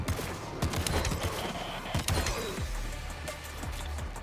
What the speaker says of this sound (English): There's the rocket being shot.